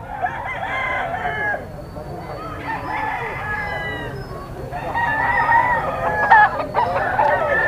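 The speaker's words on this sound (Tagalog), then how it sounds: "interesado kayo sa mga manok na binibinta ni Boss Jun" Roosters crow repeatedly in drawn-out calls at the Grotto pet market, several birds overlapping with clucking fowl close by, while someone talks in the background.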